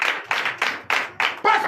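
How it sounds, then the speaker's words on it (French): Sunday church congregation in Comè, Benin, clapping in acclamation of Jesus, five rhythmic bursts of group clapping spaced about a third of a second apart, with a voice rising at the end. "Donne l'acclamation au Seigneur Jésus"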